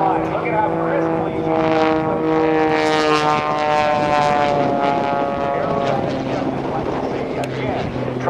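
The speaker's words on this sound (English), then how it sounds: "Maximum performance aileron rolls across the line." An aerobatic propeller airplane roaring through maximum performance aileron rolls at a naval air station airshow, loud droning engine with shifting pitch as it sweeps past, an announcer's voice over it.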